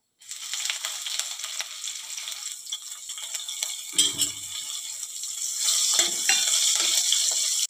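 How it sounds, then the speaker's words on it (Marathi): Loud, continuous sizzling as chopped green chilies hit hot oil, the hiss swelling toward the end, with a brief low clunk midway. "इथे मी 2 मिरच्या बारीक कट करून घेतल्या, अशा पद्धतीने त्या घालायच्या।"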